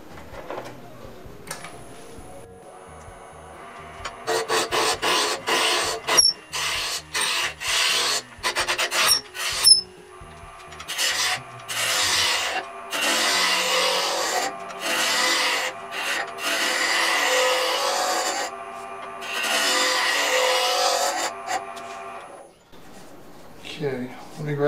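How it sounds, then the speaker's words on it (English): A spindle roughing gouge rasps steadily against a spinning screwdriver handle blank on a wood lathe, close and continuous in long scraping runs with brief gaps, plus a spoken remark near the start. "let me rough it down with a spindle roughing gouge"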